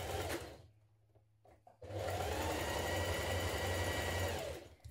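Domestic sewing machine stitching the centre back seam of a dress bodice at 1.5 cm allowance, a loud steady motor whir, pausing briefly, then running continuously again for several seconds close up.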